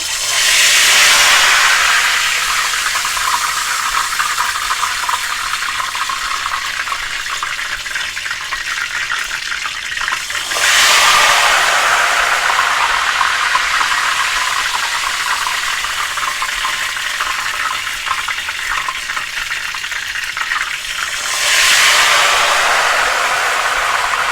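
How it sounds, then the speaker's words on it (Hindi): Ghevar batter hits very hot oil in bursts, each one a loud, roaring hiss of frothing bubbles that swells and slowly settles, repeated three times at close range without speech. "जैसे ही आप घेवर डालेंगे वैसे ही बहुत सारे बबल्स ऐसे झाग बन के ऊपर आएंगे"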